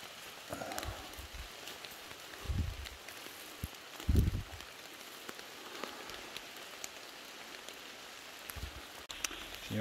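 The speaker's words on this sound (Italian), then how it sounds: "purtroppo piove" Light rain patters softly and continuously on leaves in a Calabrian forest during a porcini mushroom hunt in October, faint and steady, with a few soft thuds and rustles of movement close by.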